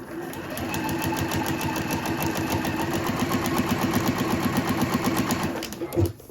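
A sewing machine with a worn needle stitches down a seam in a fast, even rhythmic chatter, steady and close, slowing and stopping at the end.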